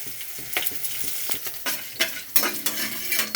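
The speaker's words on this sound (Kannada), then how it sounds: "ಸಾಸಿವೆ ಚಟ್ಪಟ ಅಂತ ಇದೆ" Mustard seeds and green chillies spluttering in hot oil for beetroot palya, soft sizzling dotted with sharp crackles and pops that grow louder and denser toward the end, heard up close.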